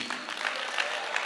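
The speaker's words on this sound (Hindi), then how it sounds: "जोरदार तालियां होनी चाहिए।" An audience at a business meeting breaks into brief applause, a short patter of many hands clapping at moderate volume with some murmuring underneath.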